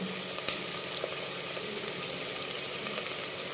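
Crushed garlic sizzling with onion and asafoetida in hot oil in a home kitchen, a steady dense frying hiss with faint crackles and occasional small pops, close and continuous throughout.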